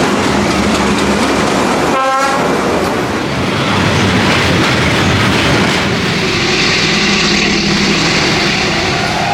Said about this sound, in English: Silence, just the sound of the train,